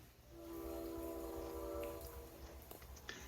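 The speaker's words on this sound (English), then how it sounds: "I ended up filming the train in the rain." A C&M northbound freight train passing in the rain on the WW Railroad, a distant horn sounding a sustained chord over a low rumble and steady rain hiss, with a few faint clanks near the end.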